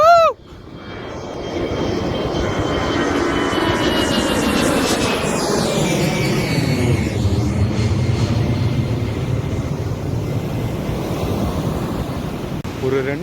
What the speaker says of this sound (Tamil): 2 ஃப்ளைட் இப்போ தொடர்ந்து டேக் ஆஃப் ஆக போகுது.